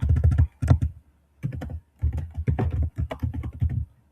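Computer keyboard typing, close clusters of quick key clicks in several bursts separated by brief pauses, with no talking over it.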